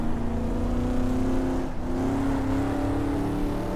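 Corvette engine in the GTR2 racing game mod, a loud, steady high-revving drone heard close up, with a brief dip in pitch as a gear shifts before climbing again.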